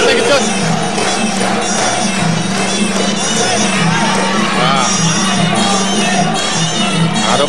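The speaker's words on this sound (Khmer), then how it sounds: "បាទសំឡេងគាំទ្រពីទស្សនិកជន" A crowd of spectators at a Khmer rumchong match cheers and shouts continuously, with whoops and a commentator's voice running over the noise.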